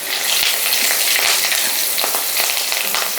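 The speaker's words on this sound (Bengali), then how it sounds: "এবার আমি এই একই তেলের মধ্যে একটু কালো জিরে ফোড়ন দিয়ে দিলাম, আর দিয়ে দিচ্ছি কয়েকটা চেরা কাঁচা লঙ্কা।" Nigella seeds and slit green chillies hit hot oil in a pan, a loud, close, dense crackling sizzle with sharp pops scattered throughout, steady and alone with no voices.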